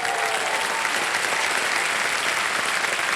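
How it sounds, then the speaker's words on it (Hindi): A studio audience on the KBC game show breaks into sustained applause, a thick, even wash of many hands clapping at once that holds steady and loud throughout. "ताली बज जाए आपके लिए"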